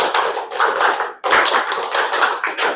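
A class of students claps hands in a counted rhythmic pattern, a continuous run of rapid group claps with a brief pause in the middle, loud and close.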